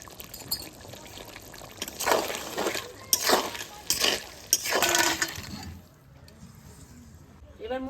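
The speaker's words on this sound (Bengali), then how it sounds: "মূলো শাক ভাজা করব তার জন্য তেল দিয়ে দিই" Cooking oil is poured into a pan before frying radish greens, heard as a few close, splashy pouring bursts over a couple of seconds followed by quieter kitchen background.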